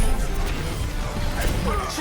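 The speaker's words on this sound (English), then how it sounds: "this is what the actual in-game audio sound like" In-game audio from Overwatch blends game music with a dense wash of mechanical clanks, creaks and effects, steady and fairly loud throughout, with faint voices underneath.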